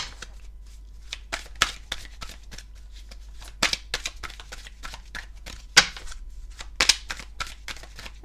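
Tarot cards shuffled and handled in a run of crisp riffling bursts and snaps, several louder slaps standing out, close and alone.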